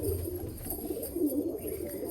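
Pigeons for sale coo softly in low, rolling calls, faint and repeated against a quiet background.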